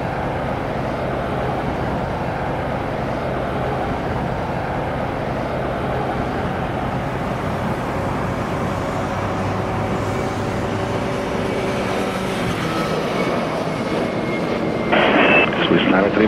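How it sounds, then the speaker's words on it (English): A Swiss airliner's engines roar steadily in Infinite Flight as it takes off from runway 28 at Zurich, a broad continuous rumble with faint tonal whines and a brighter burst near the end, with radio-style voices heard beneath. "Runway 28, clear for takeoff, Swiss"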